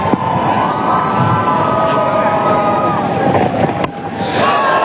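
Dense crowd noise fills a T20 cricket stadium where Ireland fans are cheering during an India versus Ireland match, a steady roar with whistles and shouts, and a commentator talking over it.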